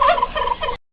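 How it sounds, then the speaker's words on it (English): A turkey gobbles in one short, loud, rattling burst close by, cutting off abruptly into silence. "Turkey."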